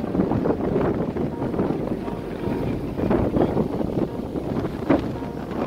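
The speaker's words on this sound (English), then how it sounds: "So windy." Gusty wind roars and buffets the microphone in a steady, heavy rumble with brief surges, no voices heard.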